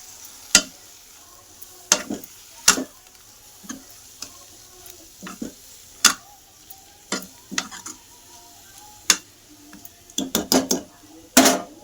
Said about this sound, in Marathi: त्या लसणामध्ये मेथी चांगली शिजून घ्यायची